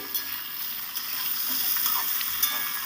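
Mixed vegetables frying in a pan for a vegetarian spinach curry, a steady soft sizzle with faint crackles and a few light taps, no voices.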